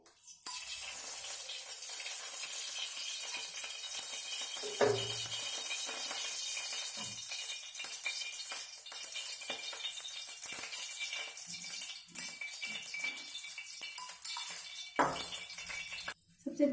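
Cumin seeds, green chilli and chopped potatoes dropped into hot ghee in a kadhai for sabudana khichdi, giving a steady close sizzle and crackle throughout with a few clatters of utensils.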